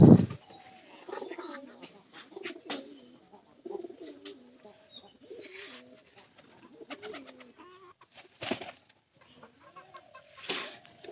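Pigeons, a male paired with a large female, cooing in repeated soft throaty phrases close by, with a loud flutter at the start and occasional wing flaps between coos.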